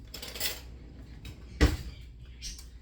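A spoon clinks against a bowl while buttermilk waffle or pancake batter is mixed, giving a few light taps and one sharp, louder clink near the middle, with no talking.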